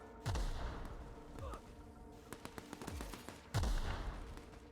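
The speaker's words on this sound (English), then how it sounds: "Who is shooting me?" Gunfire in a video game aimed at the player: several sharp, booming shots with a deep low thump, spaced irregularly, with a quicker run of small pops in between, moderately close, and a voice talking quietly underneath.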